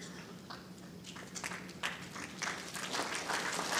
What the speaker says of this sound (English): it's got a smattering of applause on that one